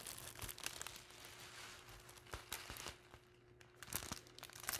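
Staticky plastic bags crinkle and rustle steadily as they are handled for a craft project making berries, with sharper crackles scattered throughout and no talking.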